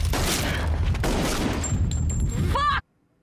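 Gunfire from the action thriller Sicario: a dense burst of rapid shots and booms fills the first few seconds at close, loud range, a sharp metallic ring cuts through near the end, then everything drops to near silence.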